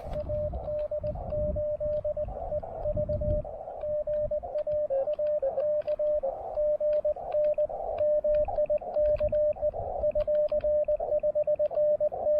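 An amateur radio station comes through an HF receiver during a park activation near the Cape Hatteras lighthouse, a steady tone and choppy transmitted signal over hiss and static, continuous throughout.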